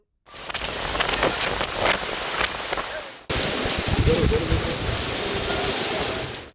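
Heavy rain falls steadily across a city in two continuous stretches of dense, even hiss, loud and close, with a possible voice mixed faintly underneath.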